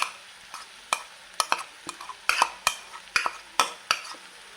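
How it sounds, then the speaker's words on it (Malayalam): A spoon stirs snake gourd thoran with coconut in a pan, scraping and tapping against the metal in a loose rhythm of sharp, close strokes. "അപ്പോൾ ഇനി ഇതുപോലെ തന്നെ നന്നായി ഒന്ന് മിക്സ് ചെയ്തെടുക്കാം."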